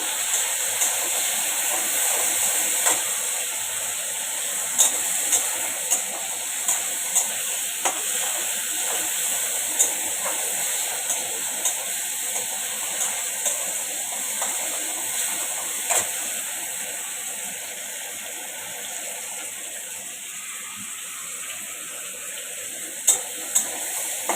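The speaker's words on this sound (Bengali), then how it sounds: "এটা আমি আলুটা ফ্রাই করে নিলাম।" Potatoes fry lightly in a pan, a steady loud sizzling hiss continuing throughout with occasional small clicks and pops.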